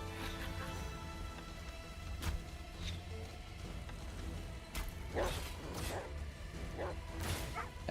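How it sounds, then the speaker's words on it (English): A dog in the video game Beast of Reincarnation barks and yips in scattered short bursts, fairly faint, over a busy game soundtrack with occasional whooshes. "No, that's my dog."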